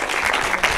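An audience at a film screening in Nîmes gives dense, steady applause for a film director, loud and sustained for a brief moment.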